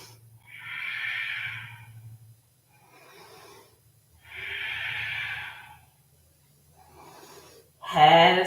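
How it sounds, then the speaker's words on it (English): Slow, audible breaths during a yoga forward fold in pyramid pose, breathy airy exhales alternating with quieter inhales in a steady rhythm, close and soft, with a sharper sniff-like sound at the end. "Exhale for your fold."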